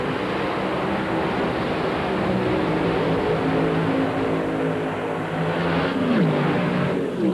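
Federal-Mogul series dragsters at a 2000 NHRA Mile High Nationals event sit at the starting line, engines droning loud and steady throughout with a rising rev near the end.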